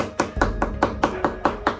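Pork being chopped into fine mince with a kitchen knife on a board: eight sharp, evenly spaced chops in quick succession, close and clear.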